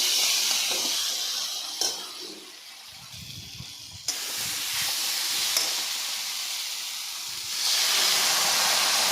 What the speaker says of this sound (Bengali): লাল মরিচ দেওয়ার পরে আমি এখানে আবার ভাজবো।